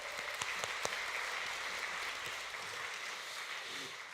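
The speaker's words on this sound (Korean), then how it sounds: "박수 할까요?" A church congregation claps in a steady, fairly faint wash of applause that carries on evenly throughout.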